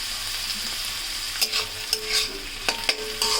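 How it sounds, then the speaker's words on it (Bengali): Leftover rice being stir-fried with peas and capsicum in a pan, a constant close sizzle broken by repeated spatula scrapes and clanks against the metal as it is tossed. "মটরশুঁটি দিয়ে আরও 1 মিনিট একটু নেড়েচেড়ে ভেজে নিতে হবে"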